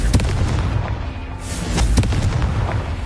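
A fiery blast spell cast in a Hogwarts wizarding video game, heard as a dense rumbling boom with crackling bursts that swells and recurs over a few seconds, loud and up close.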